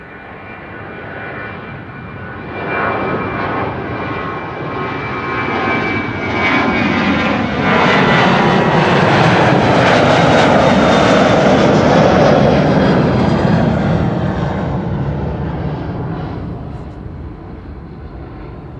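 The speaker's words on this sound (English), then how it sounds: "And this is KLM flight 1219 to Stockholm." A KLM airliner bound for Stockholm taking off from Amsterdam Schiphol, its jet engine roar rising to a loud, sustained peak midway before slowly fading into the distance.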